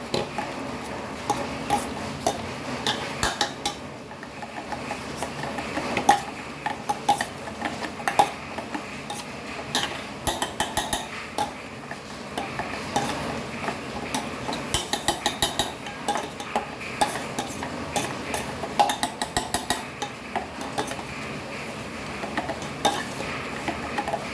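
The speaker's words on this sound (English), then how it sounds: "so now we'll mash this with our masher." Roasted eggplant is mashed with a masher in a pot for Goan bharta, giving repeated soft squishing thuds and light metallic clinks against the pot in an uneven rhythm, close up with no talk.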